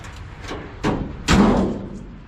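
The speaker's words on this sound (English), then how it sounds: "Hood opens and closes pretty well, despite the hood latch being bad" A metal truck hood with a bad latch creaks and lands with a couple of heavy thuds, the last one loudest and ringing briefly, nearby.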